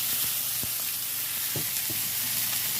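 Steak tips sizzle steadily in a cast iron pan, a continuous hiss with a few sharp clunks and pops as the pieces are turned over, close and alone with no talking.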